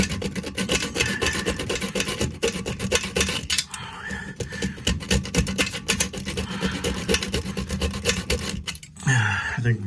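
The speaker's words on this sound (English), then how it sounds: "So we're gonna cut these off. All right, I've got this short little hacksaw." Short hacksaw cutting through old toilet bolts, a continuous gritty back-and-forth rasp of metal on metal in a fast, steady rhythm, loud and close, ending with a brief clatter.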